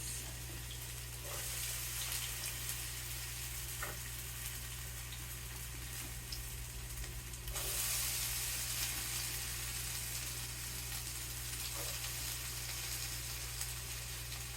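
Diced potatoes cook in a hot pan for a roasted poblano and potato quiche, giving a steady, quiet sizzle of frying with faint clinks and stirring scrapes throughout, no voices.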